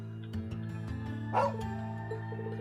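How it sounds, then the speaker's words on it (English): A dog in the video game Trails of Cold Steel 2, in the town of Ymir, gives a few short barks and yips over steady game background music. "Nice dog."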